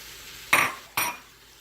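Mushrooms and chopped medium red onion dropped into a cooking pan land in two quick sizzling bursts close by, each fading quickly, with a quiet background between them.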